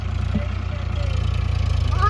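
Tractor engine, from a tug-of-war between an Eicher 557 4x4 and a Swaraj 855, running in reverse: a steady low throbbing drone with a regular pulse, close by, with no talk over it.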